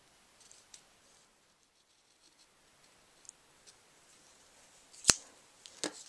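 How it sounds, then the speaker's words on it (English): Scissors cut around a cardstock butterfly shape in a quiet room: faint scattered ticks at first, then two crisp, close snips near the end. "just cut out right around the cardstock, around the shape of the butterfly"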